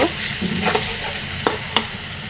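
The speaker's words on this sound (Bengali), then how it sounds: "পেঁয়াজ বাটা এটাকে আমি ভালোভাবে নাড়াচাড়া করে নেব" A spoon scrapes and stirs through onion paste frying in a pan, a steady sizzle underneath and a few sharp scraping strokes.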